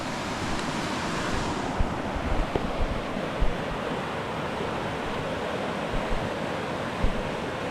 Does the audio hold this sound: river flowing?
yes